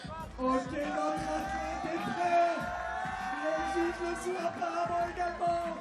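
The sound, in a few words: crowd cheering at parkour final, MC hyping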